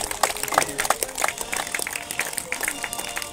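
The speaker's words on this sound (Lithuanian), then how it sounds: "Publika dar kartą aplodismentų." Audience applause at a beach volleyball award ceremony for a zonal association tournament, steady scattered clapping throughout with uneven bursts, moderately loud.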